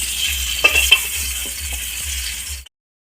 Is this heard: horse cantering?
no